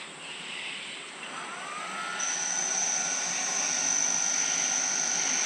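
A Centec milling machine cuts through 40 mm 4140 steel at full depth, a steady, close whirring hum that swells and brightens partway through, with a thin high tone joining it.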